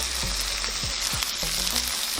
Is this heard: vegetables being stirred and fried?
yes